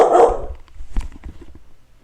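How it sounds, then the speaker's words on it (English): A stray dog in a corner gives a loud, close bark, then a short run of quieter yaps and whimpering grunts. "Just a random stray dog in the corner just barking at us."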